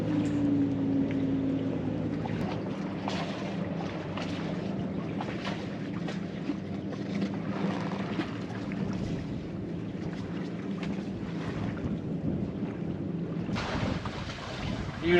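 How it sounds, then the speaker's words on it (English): A sailboat glides under sail alone with no engine running, a steady wash of wind and water along the hull filling the whole stretch, close and even, with no talking. "Lovely sailing. Doing three knots."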